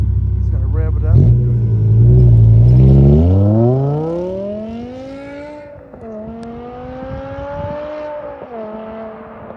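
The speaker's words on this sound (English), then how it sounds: "he's going to rev it up." A BMW M6 with a ten-cylinder, 40-valve, 500-plus-horsepower engine rumbles at idle, then revs up in a long, loud rising sweep and holds a high pitch before easing back, heard up close.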